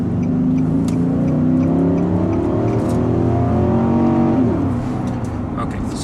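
A 2015 Infiniti QX80 4WD SUV's 5.6-litre V8 engine runs steadily and loudly throughout, rising and falling in pitch as it accelerates, with a constant drone of road noise.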